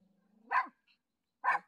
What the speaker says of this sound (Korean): 네가 짖으니까 애들 쳐다본다.